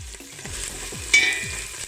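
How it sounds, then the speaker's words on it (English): Onions frying in hot oil for a devil curry, with a steady close sizzle, a sudden sharp spit partway through and light repeated stirring scrapes underneath, no talking. "The oil is now hot and in goes the onions."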